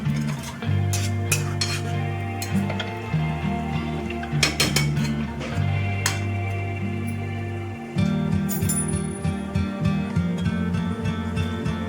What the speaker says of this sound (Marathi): आता अजून एकदा आपण हलवून घेऊया परतवून घेऊया